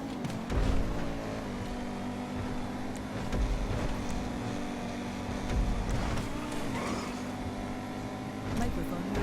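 LMP1 race cars on the Spa-Francorchamps circuit in GTA V, a continuous droning engine note with shifting pitch as cars follow each other, steady under a commentator's speech.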